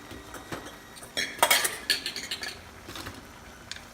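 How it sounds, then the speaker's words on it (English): Mushrooms and vegetables are stirred in a pan for a stir fry, the utensil scraping and clinking against the metal in a handful of irregular strikes that peak in the middle. No one speaks. "We'll give it a stir."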